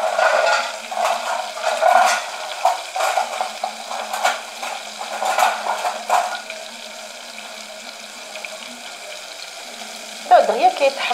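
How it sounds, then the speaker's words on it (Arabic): Pieces of fish fry in a pan with a steady, close sizzle and crackle, scraped and stirred now and then, easing off before a brief louder spatter near the end. "وهاد الحوت ديالنا ملي تقلى لينا"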